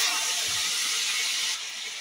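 Onion paste hitting hot oil already seasoned with dried red chilies, bay leaf and cumin seeds gives a loud, steady broadband hiss that drops slightly in level near the end, with no voices.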